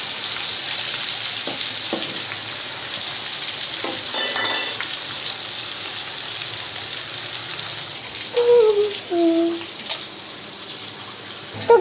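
Food fries in a pan with a loud, continuous sizzle and hiss close by, with a few clinks and stirring scrapes and a short burst of bubbling near the end.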